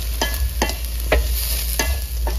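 Small shrimp sizzle in a frying pan as they are stirred, with a steady hiss and a few sharp scraping strokes at roughly even intervals, close and fairly loud, with no talking.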